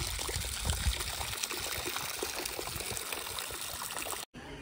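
Water pours from the trunk of an elephant statue at Panchalimedu near Kuttikanam, a steady close splashing and trickling that runs continuously before cutting off abruptly near the end.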